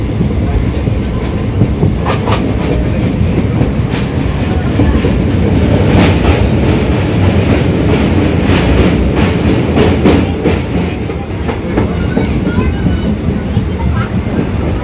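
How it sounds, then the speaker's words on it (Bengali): A Goghat-bound local train rolls into Kamarkundu junction, its wagons rumbling with a loud, continuous clatter of wheels over rail joints heard from on board, with indistinct chatter of passengers mixed in. "ট্রেন আমাদের ঢুকছে কামারকুণ্ডু জংশন, আর এই কামারকুণ্ডুতে নিচ দিয়ে চলে যাচ্ছে কর্ড লাইন"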